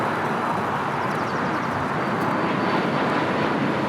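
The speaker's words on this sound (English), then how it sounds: "Southwest Airlines Flight 1780 heading to Atlanta, Georgia. 737 700. Runway 25 right, clear for takeoff" A Southwest Airlines Boeing 737-700 takes off from runway 25 right at LAX, its jet engines producing a loud, continuous broadband roar that holds steady throughout.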